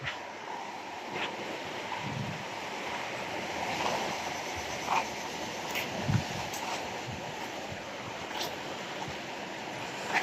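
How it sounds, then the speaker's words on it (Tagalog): Strong surf pushing against a shore just after rain, a steady broad wash of breaking waves with wind buffeting the microphone and a few louder surges rising out of the roar; no talking. "Malakas ang tulak ng tubig mga kamatik."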